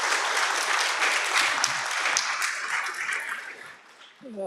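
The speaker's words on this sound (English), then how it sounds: "So let's give a short round of applause to our four distinguished panelists" A conference audience applauds four panelists, a dense, even burst of clapping from a large room that holds steady and then tapers off near the end.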